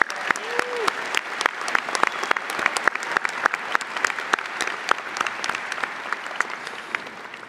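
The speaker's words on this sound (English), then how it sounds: "Can we have another round of applause for Judge Sykes?" Another round of applause for Judge Sykes from the crowd at a law school commencement ceremony, with many distinct, sharp hand claps standing out from a sustained wash of clapping that keeps going to the end.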